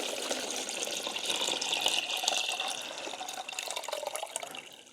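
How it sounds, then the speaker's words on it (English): Soaking water poured out of a tub holding ranunculus corms, a continuous splashing, trickling pour heard up close and fairly quiet, with no talking. "I'm going to pour the water out."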